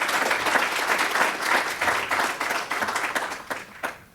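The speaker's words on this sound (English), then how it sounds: "I hope you'll join me in a round of applause for those teachers." An audience at a school's State of Our School 2024 event applauds teachers with steady, dense clapping from a crowd that holds strong for several seconds, then tapers off.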